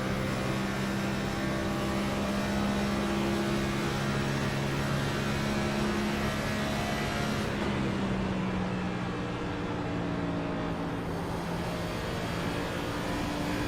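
Race car engine held at steady throttle at Indianapolis Speedway in a racing video game, a continuous droning hum with a gradual pitch shift partway through and no voices.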